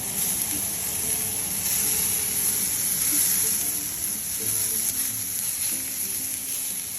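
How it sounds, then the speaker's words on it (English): Gola kababs frying in hot oil make a steady, close sizzle with a fine crackling hiss that holds evenly throughout, with a few faint clinks and no talking. "And I'm going to fry them in the oil."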